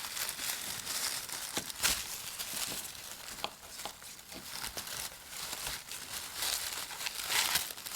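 Raffia crumpled by hand while making a festival flower crown, with close, irregular crinkling and rustling bursts that run throughout and no talk.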